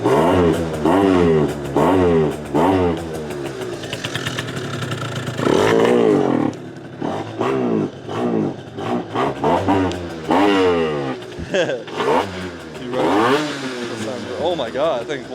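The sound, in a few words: scooter engine revving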